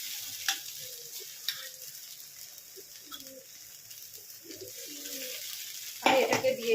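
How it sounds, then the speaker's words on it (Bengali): A paste of cashew nuts, onion and green chili sizzles softly as it is fried in oil in a pan, a low steady hiss with occasional stirring scrapes, while birds coo faintly in the background. "দিয়ে আমি আগে ভালো করে এটাকে তেলের মধ্যে কষে নিচ্ছি"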